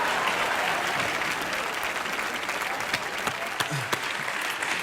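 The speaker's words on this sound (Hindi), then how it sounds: "जोरदार तालियां दोनों के लिए।" A large audience applauds steadily, a dense wash of clapping that holds at a constant level throughout, with a few louder individual claps.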